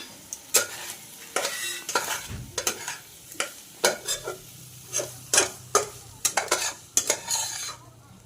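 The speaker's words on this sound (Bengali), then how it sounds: "ভালো করে নেড়ে নেব।" A spoon scrapes and stirs cauliflower stalk curry in a pan in quick, repeated strokes, with a faint sizzle underneath and no talking.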